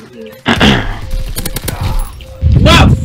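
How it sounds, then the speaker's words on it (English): A grenade blast in Call of Duty Domination, two loud bursts of explosive gunfire noise at the start and end, with an excited voice talking in between. "Oh, grenade."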